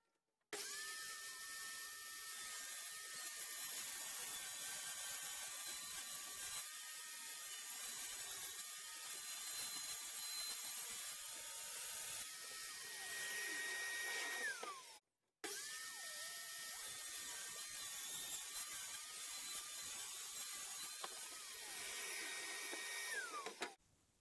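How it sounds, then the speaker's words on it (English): A power saw cuts plywood sheets to size for a flip top cart top, making two long, steady, high-pitched cutting whines, each lasting several seconds and separated by a short silence, with no talk. "Now I'm going to start cutting some plywood to size for the top of my flip top cart."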